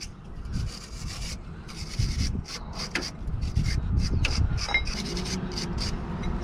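Scrubbing and rubbing to clean the wheel bearing spindle knuckle surface of a 2006 Nissan Pathfinder 4.0 SE, a close, steady scraping rasp in repeated strokes.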